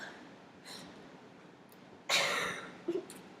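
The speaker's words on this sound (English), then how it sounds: "She coughed." A woman coughs once sharply, loud and close, after tasting a lemony vegan salad dressing in a home kitchen, followed by a brief throaty catch and quiet room tone.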